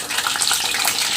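Water splashes and gushes steadily as brinjals are rinsed in a kitchen, a brief, close, continuous watery wash.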